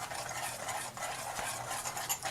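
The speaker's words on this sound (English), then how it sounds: "we're just going to give that a good mix, just like this" Steady, close scraping and swishing as dry muffin ingredients for strawberry chocolate chip muffins are stirred in a bowl, continuous with slight rhythmic pulses.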